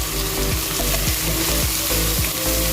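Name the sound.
masala with salt roasting and sizzling in a pan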